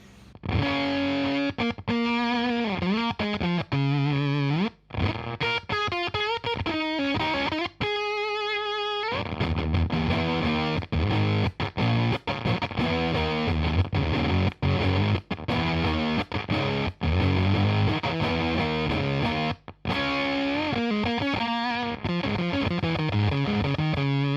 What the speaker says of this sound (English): it gives you that really sort of gated fuzz, which really makes the guitar pedal sound like it's dying, like it's breaking